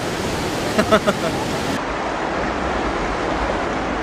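Iguazu Falls roars in a dense, continuous rush of white noise, steady and loud throughout, with a brief faint voice near the start.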